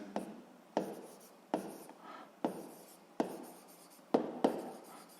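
Pen on paper while a physics answer is written out: a series of about seven quick scratching strokes, each starting with a sharp tap and then fading, close and quiet, with no speech.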